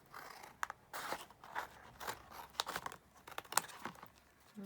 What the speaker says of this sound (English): And we'll just cut that down like that.